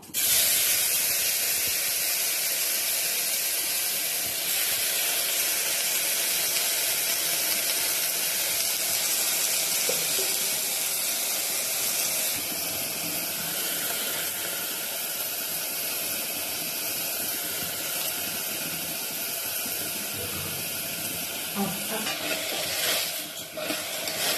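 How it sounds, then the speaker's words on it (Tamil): Broad beans dropped into hot oil with onion and curry leaves for a South Indian poriyal, giving a loud, steady, close hiss and sizzle that runs unbroken throughout. "வெங்காயம் கருவேப்பிலை போட்டு அடுத்து அவரைக்காயை போடுறோம்."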